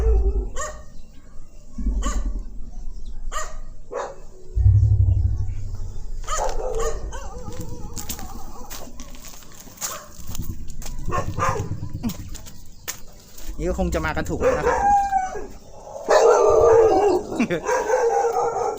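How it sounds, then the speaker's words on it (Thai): Several dogs bark, yip and howl along a road near an old water gate in Lopburi, Thailand, in repeated bursts, some close and loud, with someone talking between and over them. "แล้วก็หมาก็จะเห่าอย่างเงี้ยฮะตลอดทางหน่อย"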